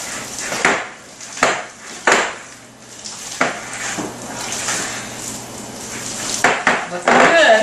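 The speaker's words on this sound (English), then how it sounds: "I'm making a lot of noise with that bowl" Ceramic or metal mixing bowl clattering in repeated sharp knocks while lamb and cream cheese are blended for lamb pops, close and fairly loud in a kitchen.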